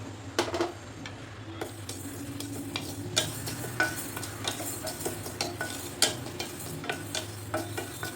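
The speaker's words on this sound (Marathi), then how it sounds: "आता टाकायचे मेथीदाणे." Fenugreek seeds being stirred and dry-roasted in a pan for raw mango pickle, with a spoon repeatedly scraping and tapping the metal over a light sizzle, close and steady with no talk.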